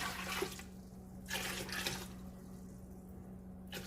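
Water splashes in bursts as bowlfuls are poured into a big cooking pot for soup. It is fairly faint over a steady low hum, with three separate pours.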